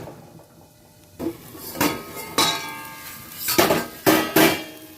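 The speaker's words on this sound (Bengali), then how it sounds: "একটা ঢাকা চাপা দিয়ে দিচ্ছি" A metal lid clanks down onto a cooking pan of kolmi greens being fried, a few sharp clattering knocks spread over several seconds, close and fairly loud with no talking.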